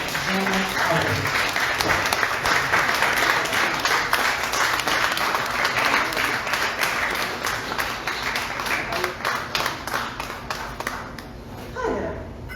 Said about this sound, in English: Y'all clap it up for our featured poet tonight, Janet Kuypers.